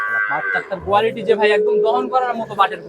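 Dairy cows, including Jersey cows, at a wholesale cattle market in Pabna; a cow lows briefly near the start while someone talks loudly over it close by.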